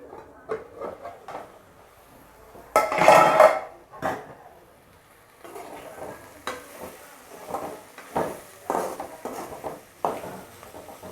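Broad beans frying in a pan as a covering plate is lifted off, a loud burst of sizzling around the third second followed by quieter frying and a series of rhythmic spoon scrapes and taps against the pan.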